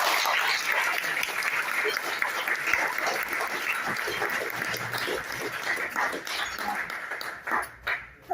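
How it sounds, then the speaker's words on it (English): An audience at a Rotary foundation presentation claps for award winners, a sustained burst of applause mixed with voices and a dog barking, fading out near the end. "one more big round of applause for all of our Russell Award winners"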